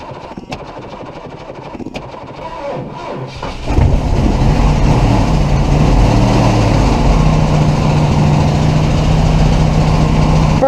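A 1977 Ford Thunderbird engine, primed with brake cleaner, cranks briefly, then catches and settles into a loud, steady rumbling run that continues to the end.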